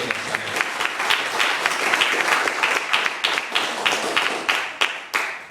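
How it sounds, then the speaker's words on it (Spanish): Loud applause from a church congregation, a dense roar of many hands with distinct sharp claps punctuating it, sustained and close throughout. "Den un aplauso fuerte a Jesucristo"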